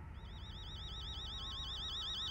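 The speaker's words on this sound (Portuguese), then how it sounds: "Tô em casa, tem um alarme." A car alarm heard inside the horror video game Fears to Fathom: Home Alone, a steady looping electronic wail that rises and falls in quick regular sweeps, faint and distant, with no talk over it.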